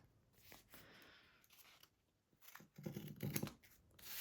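Scissors snip through paper scraps in a few quick, close cuts, the loudest crunching bursts coming near the end, with no talking.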